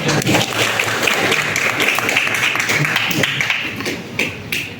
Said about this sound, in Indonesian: Kita berikan aplaus dulu untuk ngomong.